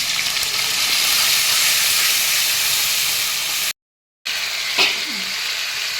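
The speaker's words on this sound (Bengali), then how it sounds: "আমি মাছ ভাজার তেলের মধ্যে কতগুলো কালো জিরে দিয়ে দিলাম ফোড়নে, কাঁচা লঙ্কা, কাঁচা পেঁয়াজ, এগুলো একটু ভালো করে ভেজে নেব।" Black cumin, green chilli and onion fry in oil left from frying fish, giving a steady loud sizzle and hiss up close, broken by one short gap.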